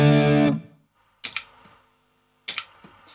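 A distorted electric guitar chord rings through an MXR Smart Gate set to its minimum trigger level and is cut off sharply by the gate. Two short, loud muted pick scrapes follow, each closed off quickly into near silence.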